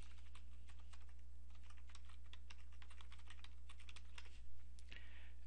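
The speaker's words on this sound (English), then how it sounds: "I can go ahead and start typing." Rapid, irregular keystrokes on a computer keyboard, close and crisp over a low steady hum, with short bursts and brief pauses.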